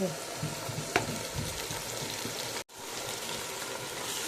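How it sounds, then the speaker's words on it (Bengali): Marinated beef cooking with browned onions in hot oil crackles in a steady, close sizzle, with a brief stirring clink and a short dropout partway through. "পেঁয়াজটা একটু ভাজা হয়ে এসেছে এখন আমি দিয়ে দেবো মেরিনেট করা মাংস"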